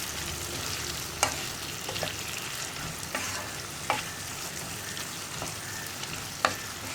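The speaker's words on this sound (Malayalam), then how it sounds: "ഉപ്പ് ചേർത്തിട്ട് ഇതും ഒരു 2 മിനിറ്റ് ഒന്ന് നന്നായിട്ട് ഹൈ ഫ്ലെയിമിൽ തന്നെ എണ്ണയിൽ വഴറ്റിയെടുക്കുക" Mixed vegetables for a pickle sautéing in oil over a high flame give a steady close sizzle, with a few sharp scrapes of stirring marking the rhythm.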